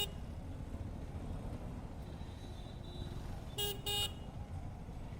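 The loud horn of a KTM Duke 390 motorcycle blasts twice in quick succession over a steady rumbling engine idle, close and ringing.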